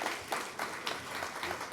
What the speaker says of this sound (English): How about a round of applause for Dan?